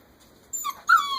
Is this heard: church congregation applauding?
no